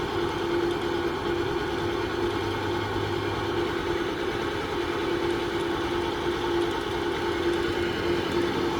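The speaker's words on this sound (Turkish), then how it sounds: "Sol tarafa doğru çeviriyorum. Bakın devrin yükseldiğini görüyorsunuz arkadaşlar." A CG motorcycle engine runs close by with a steady, throbbing mechanical hum and a sustained tone, holding fairly even throughout with no speech.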